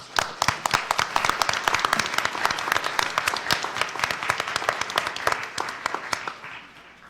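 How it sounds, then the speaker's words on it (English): An audience at a school board meeting gives a round of applause, dense sustained clapping from a room full of people that fades toward the end. "Let's give him a round of applause."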